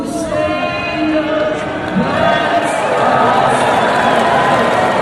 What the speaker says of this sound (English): And the British crowd cheered loudly.